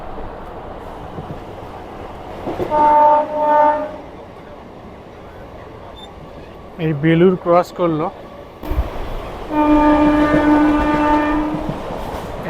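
A local train on the Barddhaman–Howrah Chord Line rumbles along non-stop, its horn sounding in several loud blasts, with someone talking between them.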